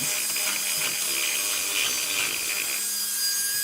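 A Dremel rotary tool whines steadily and close by while it trims a vintage modern PJ guitar pickup set for installation, a constant high-pitched grinding hum with slight rubbing fluctuations throughout.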